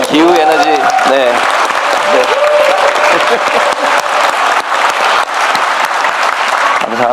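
An audience at a town hall meeting breaks into loud, sustained clapping that fills the room, with a voice speaking over it at the start.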